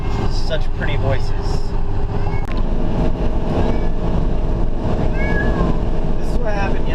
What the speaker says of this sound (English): It's my singing cats.